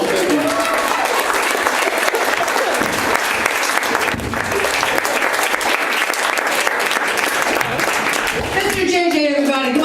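Loud, dense audience applause fills a comedy club show after a comedian's set, sustained steadily throughout with a few voices rising near the end.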